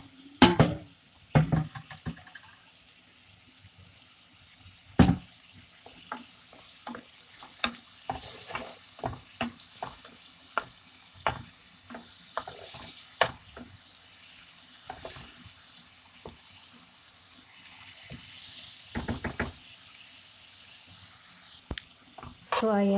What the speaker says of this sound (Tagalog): mix ko lang siya ng mabuti